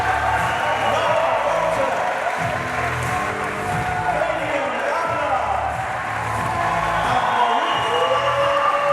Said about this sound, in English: Crowd inside the Round Chapel. They're making plenty of noise, lots of friends and family in.